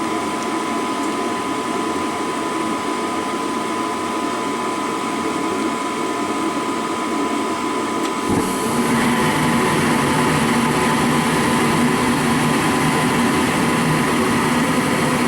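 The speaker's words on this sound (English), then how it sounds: "the igniter will turn on first, then it'll call for gas, and then if the flame sensor is working properly, the flames will stay on" Goodman gas furnace starting up: a steady mechanical hum and whine runs throughout, then a sudden broadband whoosh at about eight seconds as the burners light and keep roaring steadily, with no talking.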